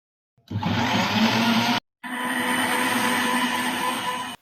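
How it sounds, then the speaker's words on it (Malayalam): An electric blender whirs loudly as it blends lime, mint, sugar and water in its jar, running in two steady bursts split by a brief pause. "ഇനി ഇതെല്ലാം കൂടെ നമുക്ക് നല്ലപോലെ തന്നെ ബ്ലെൻഡ് ചെയ്തെടുക്കാം"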